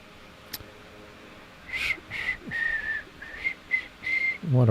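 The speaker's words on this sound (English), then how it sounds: "Why do I whistle? I can't whistle." A person whistles nearby in a series of short, breathy, uneven notes at a moderate loudness, alone without talk, ending in a louder low rumble.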